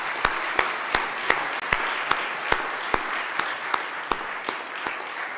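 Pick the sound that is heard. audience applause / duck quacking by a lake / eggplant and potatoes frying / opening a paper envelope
audience applause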